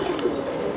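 Cooing from a Giribaz pigeon pair at a pigeon seller's loft, a soft low murmur running steadily through under a quiet background.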